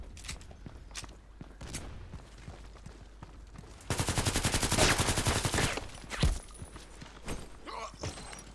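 Rapid automatic fire from an APS Stechkin automatic pistol in a first-person shooter game, a loud sustained burst mid-clip after scattered single shots and footsteps, then a sharp final shot.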